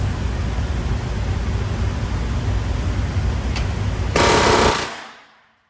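A Taurus TX22 pistol fires CCI Mini-Mag .22 ammunition in a loud, dense burst of rapid shots that blur into a continuous rattle, building briefly before stopping and fading out.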